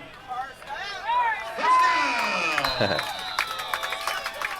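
A football stadium crowd at a women's football championship game cheers and roars, a broad, rising wash of voices that grows louder and holds steady, with an announcer talking over it.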